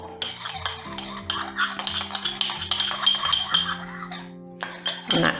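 A spoon clinks and scrapes around a cup or bowl as cocoa powder is stirred into hot liquid, giving a steady run of close, light metallic taps and swishes with brief pauses, over a faint low hum.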